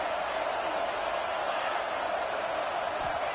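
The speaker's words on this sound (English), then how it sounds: "Listen to the crowd energy here in the early going." A stadium crowd at an Alabama college American football game roars in a continuous, even wash of noise that holds at one loud level throughout, with no distinct voices standing out.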